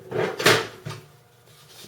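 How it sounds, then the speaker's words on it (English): The aluminium side door of a PowerMac G5 tower comes off with a close, hollow metallic clunk and scrape, a couple of quick knocks that fade into quiet. "This aluminium door comes off,"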